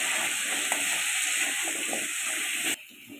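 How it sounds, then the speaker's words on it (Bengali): Taro root pieces, seasoned with salt and turmeric, frying in hot oil with a steady bright sizzle and hiss that cuts off suddenly near the end, close and without talk. "খুব সুন্দর করে গাঠি কচুগুলো দেখো ভাজা হয়ে গেছে লাল লাল করে।"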